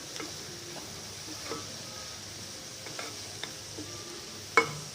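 A Gujarati cabbage, carrot, pea and potato shaak cooks in a pan, giving a soft, steady sizzle with occasional stirring scrapes and one sharper knock near the end, close by and without speech.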